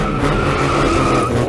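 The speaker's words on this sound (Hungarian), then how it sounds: "ennek az autónak a hangját hallottátok az előző adásunk végén" A Volkswagen Type 3 engine runs hard on a dynamometer, a loud, steady, continuous roar with a low throbbing rumble, held throughout without pause.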